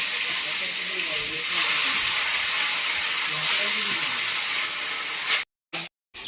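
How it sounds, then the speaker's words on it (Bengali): Katla fish slices frying in hot mustard oil in a wok, a loud continuous sizzle and hiss close up that swells briefly before cutting out near the end. "এবার মাছগুলো আমি হালকা করে এপিট ওপিট ভেজে নেব।"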